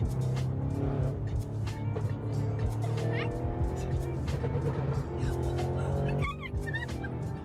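A car races off from police, its engine roaring steadily with tire squeal and road noise throughout, while a voice talks loosely over the action.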